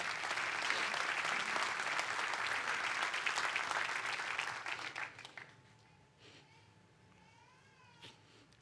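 Church congregation giving a strong round of applause, dense loud clapping for several seconds that fades out quickly, leaving quiet room tone with a few faint scattered sounds.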